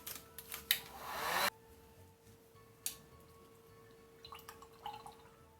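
A hair dryer blows steadily on wet paint on an MDF Santa Christmas decoration in country painting style, a loud close whoosh lasting about a second and a half, then quieter handling clicks and light taps.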